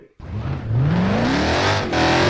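V12-engined car in a video game race launching hard from a standstill, engine note climbing steadily through the revs after a brief silence, loud and close with no talk.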